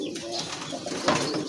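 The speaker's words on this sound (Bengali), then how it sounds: "মাশাআল্লাহ আরেক জোড়া কবুতর, এটা কিন্তু আপনার গোল্লা কবুতর, অনেক বড় সাইজের কবুতর" Pigeons coo at a pigeon sale, large round-bodied birds among others, a steady low murmuring coo with a brighter call near the end, close and moderately loud over busy market background.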